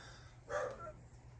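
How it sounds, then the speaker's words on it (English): A single faint dog bark from somewhere outside a home, muffled and distant against a low background hum. "Sorry about the dogs barking,"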